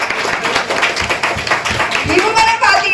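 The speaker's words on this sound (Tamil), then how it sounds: "இன்னோட கைத்தட்டலாமே" An audience claps at a modern bommalattam puppet show, a brief burst of loud, dense applause with voices mixed in.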